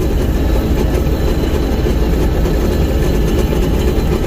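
A 1682 combine harvester working in wheat roars steadily at close range, a dense low rumble with rattling and clattering from the feeder running through it the whole time.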